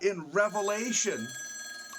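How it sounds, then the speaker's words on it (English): A telephone rings during a talk on Christology, its electronic tones faint and partly buried under someone speaking steadily over it. "that's the phone ringing"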